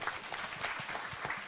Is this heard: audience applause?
yes